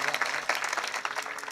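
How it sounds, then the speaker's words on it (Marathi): An audience at a kirtan claps loudly and continuously, a dense burst of close applause from many hands filling the whole moment. "महाराजांसाठी एकदा जोरदार टाळ्या सर्वांनी वाजवा"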